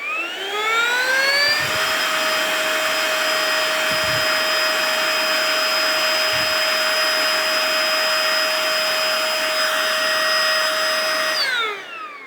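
A Mellif cordless blower and duster, a DeWalt-battery version, runs on its medium setting. It gives a loud, close, steady high-pitched turbine whine that ramps up, holds, then winds down at the end, with a few faint knocks and no talk.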